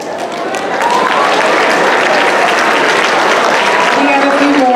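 Loud, sustained applause fills a junior high school award ceremony hall, a continuous wash of many hands clapping that builds and holds steady throughout.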